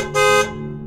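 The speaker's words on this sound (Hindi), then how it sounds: "शायद कोई गाड़ी का हॉर्न बजा रहा है।" A car horn sounds one short, loud, steady honk that cuts off sharply and leaves a ringing tail, heard alone with no voices.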